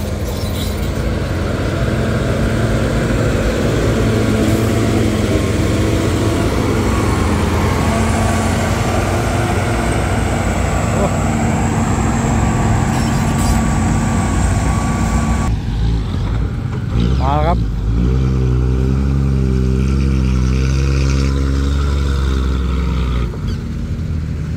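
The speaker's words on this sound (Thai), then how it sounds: "รถไถใหญ่หรือว่าเกรดเดอร์แคทเทอร์พิลาร์ 140K ไถเลยครับ" A Caterpillar 140K motor grader clearing ground runs with a steady, heavy diesel drone, close and continuous, before the engine note shifts and labours lower toward the end, with no talking.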